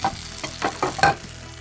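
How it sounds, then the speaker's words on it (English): A taco sizzles and crackles in a frying pan, the hot, bright frying noise swelling in a few bursts over a short stretch, with no voices. "And now we're just going to let the taco cook like that for a minute."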